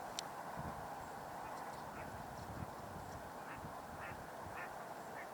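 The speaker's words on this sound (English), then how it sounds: "I'm not sure where the mallard is who's vocalizing" A mallard duck quacks a few times at a distance over steady outdoor ambience, with other waterfowl such as green-winged teal and northern pintails nearby; the calls are faint, short and scattered.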